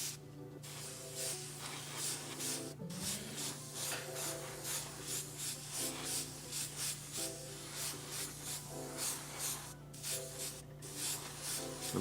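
A Mobius airbrush sprays primer onto the back half of a scale model fuselage, giving a steady close hiss that comes and goes in short rhythmic bursts over a constant low compressor hum, with no talking.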